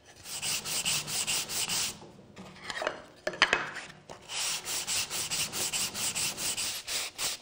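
Sandpaper is rubbed back and forth along the edge of a handmade wooden box in rapid rhythmic strokes. The rasping pauses briefly for some handling knocks, then resumes close and steady.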